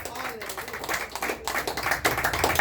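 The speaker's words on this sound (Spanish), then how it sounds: "Déale fuertes palmas a Él porque Él vive." A church congregation breaks into strong, uneven clapping in praise, sharp hand claps piling up under a preacher's voice speaking over them.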